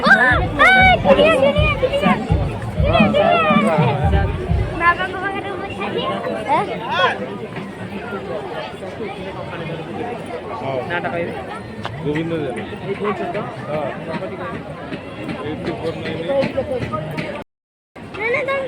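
A packed Toshali fair crowd on Christmas Day murmurs and chatters all around, loud nearby voices at first easing into a steadier background babble, with a short dropout near the end.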